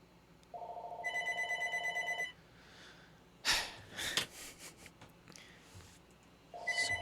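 A telephone rings from a spam call: two loud, close bursts of electronic ringing, a pause, then a third burst starting, with breathing and shuffling noises between the rings.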